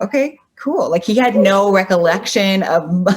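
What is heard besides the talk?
No everyday noise stands out behind the speech.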